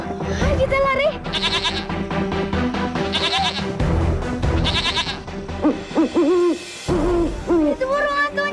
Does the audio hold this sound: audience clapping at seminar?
no